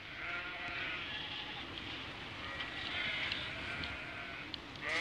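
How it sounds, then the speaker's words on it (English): A flock of sheep in rural Afghanistan bleats steadily over a continuous outdoor wash, the calls overlapping at a moderate distance with no clear pauses. "with flocks of sheep providing a vital source of food and clothing"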